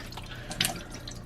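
Brine drips and trickles off a raw turkey lifted out to drain, a soft, continuous watery patter with one brief splashier drop, close and faint.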